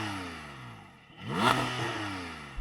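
A Porsche GT4 engine idles, then blips sharply up in pitch to about 5,000 RPM and falls back, a single throaty rev close by, ending with a low thump.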